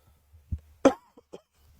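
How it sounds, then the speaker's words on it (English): A single short cough sounds close by, preceded and followed by faint breathy noises in an otherwise quiet room. "That's not a COVID cough."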